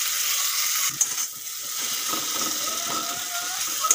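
Chopped tomatoes fry in a pan for a tomato chutney, giving off a steady, bright sizzling hiss with a few small pops and scrapes, close up and without speech.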